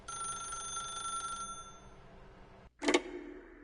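A telephone rings in The Stanley Parable video game. A steady electronic trill sounds for a couple of seconds, then falls silent, followed by one more short, loud ring burst.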